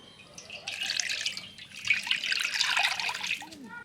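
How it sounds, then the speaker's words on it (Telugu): Cooking oil pours into a kadai for a village-style chicken fry, a soft, splashy trickling that comes in two bursts with a brief pause between them, close and fairly quiet. "ఇప్పుడు మనం నూనె పోసుకుందాం."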